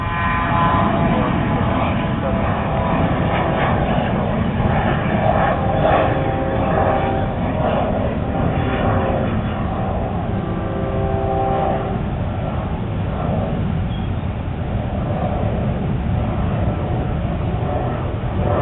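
Cessna Citation Sovereign business jet taking off at sunrise on runway 21L at Lunken Municipal Airport, a loud, steady jet roar that holds throughout with broad rumble and whining tonal layers.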